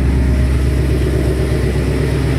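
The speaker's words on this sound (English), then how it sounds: "car sounds great" A car engine runs loud and steady, a low throbbing rumble that holds at a constant pitch throughout.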